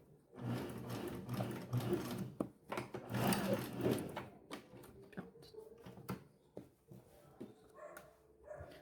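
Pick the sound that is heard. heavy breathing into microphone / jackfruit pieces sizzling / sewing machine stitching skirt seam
sewing machine stitching skirt seam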